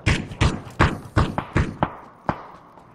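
Seven or eight heavy thumps land in quick succession, loud and close, as grenades are thrown in a video game, the blasts fading slightly toward the end.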